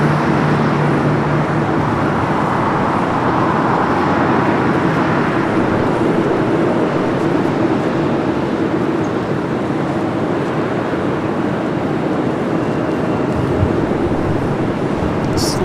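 An airliner begins its takeoff roll on runway 24 left at LAX, a steady, loud, broad engine roar that holds constant and distant-sounding throughout, with no voices.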